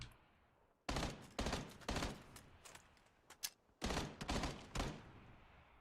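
Bursts of automatic gunfire in a shooter video game on Stadia, several loud rapid volleys separated by short pauses, with a couple of single shots between them.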